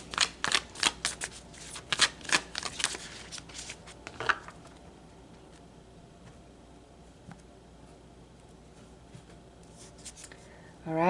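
Tarot cards shuffled by hand in a burst of crisp riffling flicks for about four seconds, then near silence with faint handling, ending on a quick rustle.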